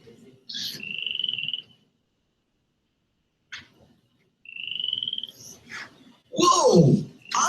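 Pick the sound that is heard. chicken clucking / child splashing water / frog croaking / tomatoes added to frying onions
frog croaking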